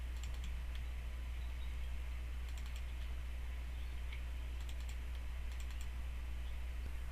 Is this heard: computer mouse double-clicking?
yes